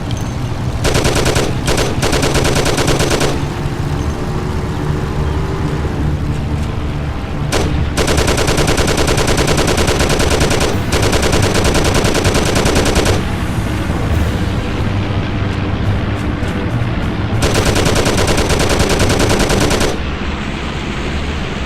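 Heavy gunfire from the Mafia: The City of Lost Heaven video game, with long sustained bursts of automatic fire broken by short gaps and single shots, loud and close throughout.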